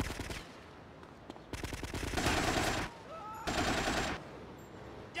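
Rapid automatic gunfire in GTA Vice City Stories, loud crackling bursts separated by short gaps, with game ambience underneath.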